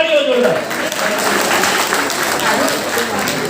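Sustained applause from the audience at a Samast Brahmin Samaj community honours ceremony in Navi Mumbai, a steady wash of clapping that stays loud throughout, with a voice speaking over it at the start.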